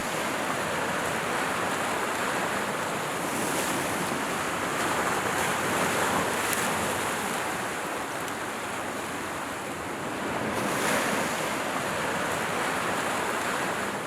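Ocean surf on the Baja coast surging against rocks as the tide comes in: a steady, loud wash of breaking water with gentle swells rising and falling, a little wind buffeting the microphone, no voices.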